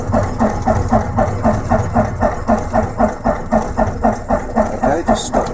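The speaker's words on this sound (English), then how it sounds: "and the engine start." A light aircraft piston engine cranks over on the key during a start attempt, a fast regular chugging rhythm of compression pulses, loud and close, steady throughout without catching into a smooth run.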